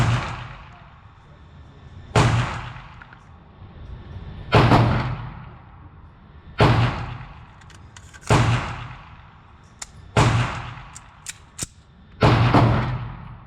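Two full-size 9mm pistols, an HK USP-9 and a SIG P226 Mark 25, fire single loud shots spaced about two seconds apart at an outdoor range, each crack followed by a brief echoing decay.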